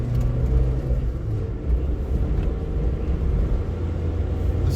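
A slow car's engine strains under load while climbing a hill, a steady low rumbling drone that holds close and loud throughout with no pauses.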